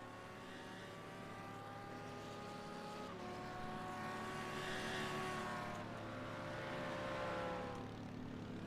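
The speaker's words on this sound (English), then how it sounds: "Listen to that Merc on low revs, just sounds awesome." A Mercedes GT3 race car at Imola idles and burbles on low revs, its steady engine note shifting pitch a few times and running alone without any talk.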